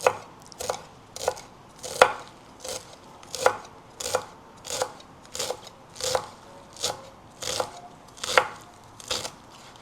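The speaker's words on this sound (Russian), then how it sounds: "Измельчаем вместе с базиликом, реганом." Knife chopping fresh herbs, including basil and oregano, finely on a board for a tomato and onion salad: a steady series of about a dozen crisp, evenly spaced cuts, close and clear.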